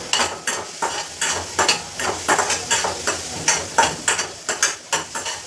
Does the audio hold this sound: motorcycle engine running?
no